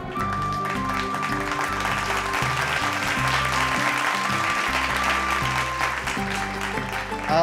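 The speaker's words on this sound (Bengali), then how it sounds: "ঋতাপরির জন্য জোরে হাততালি হয়ে যাক।" Loud, sustained applause from an audience at a stage show, cheering a dancer, with steady clapping running the whole stretch over a musical backdrop.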